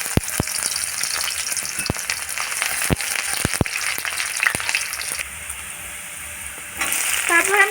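Sliced onion frying in a pan for soybean dopiyaza: a steady broadband sizzle with sharp spatula taps against the pan in the first half, dropping quieter midway, then a fresh burst of hiss near the end.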